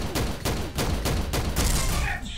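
Rapid gunfire in the XSHOT shooter game, a close, loud burst of about half a dozen sharp shots in quick rhythm, ending with a brief electronic tone.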